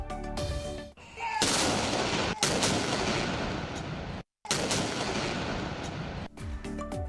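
Ceremonial 31-gun artillery salute for Pakistan Day in the federal capital, several loud booming cannon reports in succession with brief gaps between them, heard alone without voices.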